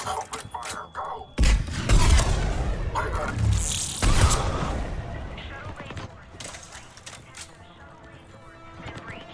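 Gunfire and explosions erupt in a Mass Effect 3 battle: dense volleys of shots and booms, loud and close, then tapering into scattered firing, with voices speaking over parts of it.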